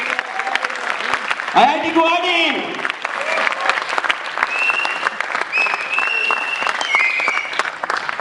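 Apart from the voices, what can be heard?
audience applause at IIT Guwahati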